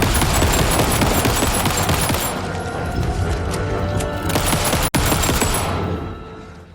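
Handgun fire in the Alan Wake 2 video game, dense overlapping gunshots and crashing blasts in a loud continuous burst that fades slightly toward the end, with no talking.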